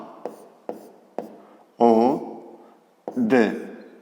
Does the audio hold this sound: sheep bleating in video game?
no